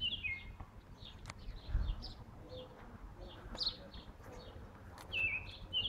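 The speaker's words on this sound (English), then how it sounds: "It's like a blue jay or something." A blue jay attacking a baby squirrel outdoors gives scattered sharp, high calls, several brief cries spread across the stretch over soft rustling and wind.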